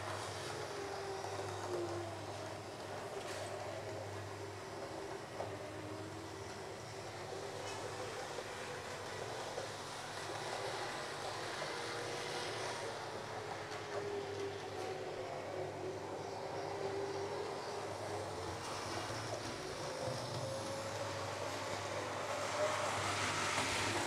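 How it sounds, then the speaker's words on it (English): A Hornby class 47 model locomotive runs on a layout, giving a faint, steady motor hum and a soft rolling rumble that continue for the whole stretch, with a gently rising and falling whine. "The only sound we are hearing is from the locomotive itself."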